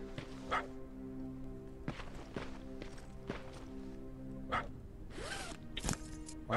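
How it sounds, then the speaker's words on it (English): A dog in the video game Terminator Resistance barks repeatedly in a trainyard, with sharp separate barks spaced irregularly over a low steady hum, fairly close and prominent. "Why is this dog constantly barking?"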